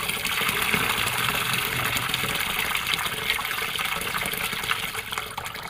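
Water pouring steadily for free-range village chickens on a small farm, a continuous loud splashing gush with broadband hiss throughout and no voices.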